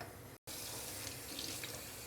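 Water runs steadily from a tap while a houseplant is being watered, a continuous hissing stream with one brief cut near the start, close and fairly quiet, with no talking.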